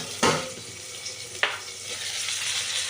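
Steamed cauliflower stalks fry in a little oil in a covered pan, a soft steady sizzle with two sharp clicks or stirring knocks standing out, no one talking.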